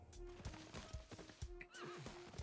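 Horse in Civilization VI neighing, a whinny rising over repeated hoof clip-clops and game ambience, moderately loud and close, with no speech.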